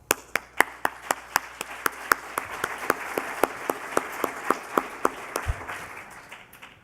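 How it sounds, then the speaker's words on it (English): A small audience at an awards ceremony claps for the sponsors, with distinct close hand claps striking in a quick, fairly regular rhythm that thins out toward the end. "Please help us thank our sponsors for making this event possible by giving them a round of applause"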